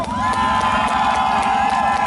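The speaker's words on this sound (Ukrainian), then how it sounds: "Номер два. Аплодисменти." A crowd at a Neptune Day motorcycle festival roars and cheers for contestant number two, a dense, loud, sustained wall of shouts and whoops with scattered clapping throughout.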